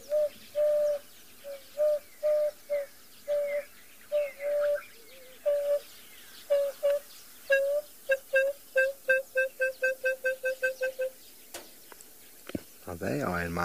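A single bird repeats a clear, tonal call many times, the calls speeding into a rapid series before a short burst of noise at the end.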